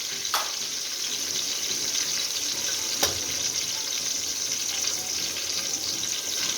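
Ginger-garlic paste drops into a pot of khichuri frying in hot oil, giving a steady close sizzle with a few soft spoon scrapes and no talk.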